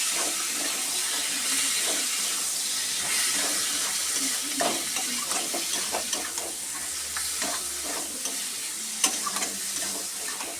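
Animal fat is stir-fried in a hot pan, throwing off a steady broad sizzle with repeated scraping and clinking from a stirring spoon, and one sharper knock stands out near the end.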